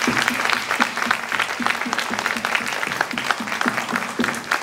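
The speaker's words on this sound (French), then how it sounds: "applaudissez-les encore un peu plus fort parce qu'elles ont travaillé très dur" Audience at a youth short-film awards ceremony applauds loudly and steadily with dense, continuous clapping, and a voice speaks briefly over it.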